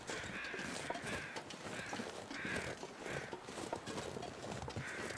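Crows caw repeatedly in evenly spaced calls in the survival game The Long Dark, set in the wintry Mystery Lake area, over continuous crunching footsteps and ambient noise.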